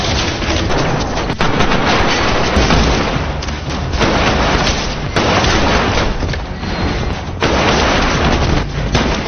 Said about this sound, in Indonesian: tiba-tiba saja Dalton dan Nelson datang menyerang hingga aksi baku tembak pun terjadi